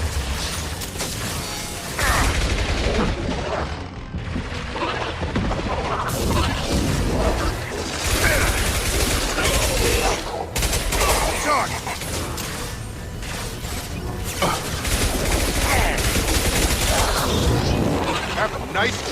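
Sustained gunfire and explosions crackle and boom through a Mass Effect 2 firefight on Horizon, dense and loud, with character voices speaking over the battle.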